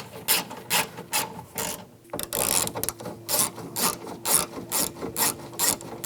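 Ratchet clicking as bolts on a 2004-2009 Toyota Prius rear window regulator are snugged down, with quick repeated bursts of sharp pawl clicks close up, pausing briefly before a longer steady run of turning.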